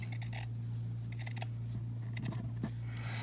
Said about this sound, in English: you're going to make and cut some slits, some real small slits in your fabric, just like this